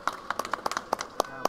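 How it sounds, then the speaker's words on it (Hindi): Scattered hand claps, about a dozen sharp irregular claps over a second and a half, from a small group celebrating Ramdas Athawale becoming cabinet minister, with voices murmuring underneath. "ये मोदी जी के लिए तालियां।"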